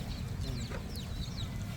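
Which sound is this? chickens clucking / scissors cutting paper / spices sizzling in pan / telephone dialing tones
chickens clucking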